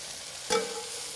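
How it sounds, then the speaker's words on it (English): Peppers sizzling in a hot pan on a grill, a steady close frying hiss with a brief louder burst of spatter partway through, no voices. "Oh, these peppers are sizzling up good."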